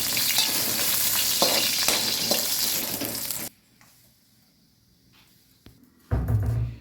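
Spices sizzle and crackle loudly in hot oil in a pan for about three seconds, then the frying drops away to near silence before a brief loud burst of activity returns at the end.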